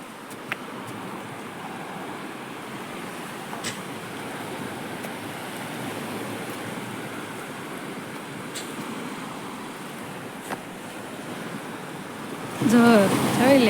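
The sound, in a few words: sea waves washing onto the shore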